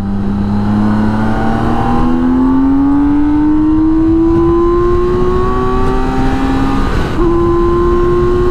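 BMW K1600 GTL motorcycle accelerating along an open road at night, its smooth engine note rising steadily in pitch over several seconds, briefly dipping at a gear change before climbing again, loud and close with wind noise beneath.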